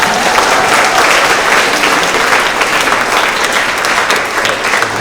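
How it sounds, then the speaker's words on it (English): Audience applause for volunteers fills a school award assembly for grades 6 to 8, a steady, dense clapping from a large crowd that stays loud and even throughout with no talk on top. "Let's give our volunteers a round of applause."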